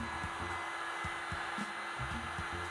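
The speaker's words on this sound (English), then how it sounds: "I try the heat gun first. I move the gun back and forth to apply heat to the board." A heat gun blows hot air onto a warped wooden clamping caul in a steady, close, continuous roar, with a faint rhythmic flutter beneath it.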